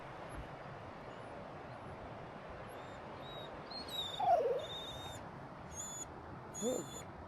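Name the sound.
child imitating a baby wolf howl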